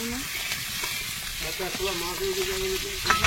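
Fish head frying in oil in a large pan while cooking for a village meal makes a steady, close sizzle, with a voice talking faintly over it and a brief clatter at the end.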